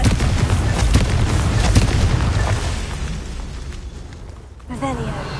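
A blasting-curse explosion in a Harry Potter video game, a loud rumbling boom that swells and then fades over a few seconds, with a voice shouting just before it.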